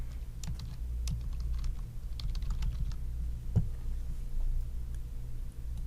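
Keys clatter quietly on a computer keyboard while event details are entered in scheduling software: a steady run of light, quick taps over a low, constant hum.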